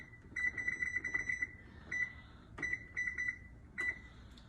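A kitchen oven lowered in heat for baking bread gives bursts of rapid, high electronic beeps in several short clusters, fairly faint against quiet room tone.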